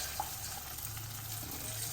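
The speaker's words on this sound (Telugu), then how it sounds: "ఇప్పుడు నేను ఇందులో కలిపేస్తున్నాను పప్పులో కొద్దిగా వాటర్" Water poured into a pot of cooked lentil dal made with tamarind leaves and raw mango, a steady close splashing trickle that runs for about two seconds with no talk.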